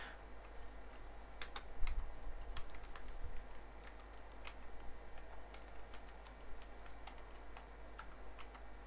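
Typing on a computer keyboard, quiet and close, with irregular clusters of light key clicks over a faint background hum and no voices.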